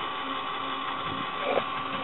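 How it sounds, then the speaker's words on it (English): A 24-volt actuator motor switched over to manual runs with a steady mechanical whir and hum, close and unbroken, with no talk over it. "That's a 24-volt actuator. I'm going to flip this over to manual. And you can hear the motor."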